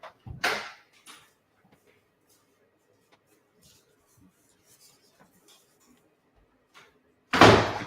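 Two sharp slams of a door in a house, one brief bang at the start and a louder, closer one at the end, with near-silence and faint shuffling between them.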